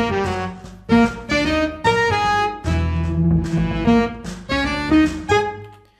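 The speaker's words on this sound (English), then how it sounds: "there is a chorus part where all the instruments are playing staccatos" Sample Modeling virtual instruments play a chorus section together in staccato, the same notes on short, punchy, bright ensemble hits, loud and close, in a lively repeating rhythm.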